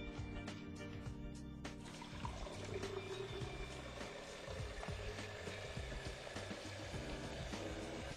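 Hot water poured with soap into a Vitamix blender jar for cleaning, a steady splashing, trickling stream running continuously at close range over a low hum.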